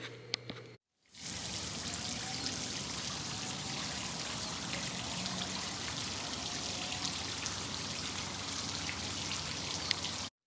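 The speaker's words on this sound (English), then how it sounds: "I'm gonna go fill up my water bottle" Water pours steadily into a water bottle, a continuous rushing trickle that runs unbroken for about ten seconds after a brief silent pause at the start.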